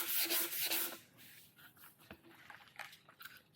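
A palm is rubbed wet across painted metal on a custom woodgrain Trail70 motorcycle, giving a close, broad swishing rub that fades into softer scattered strokes and light squeaks.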